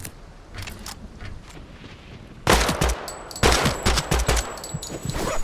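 Gunfire in the video game Project Silverfish: soft distant pops at first, then loud close bursts of rapid shots in clustered volleys, with a faint high electronic tone running beneath.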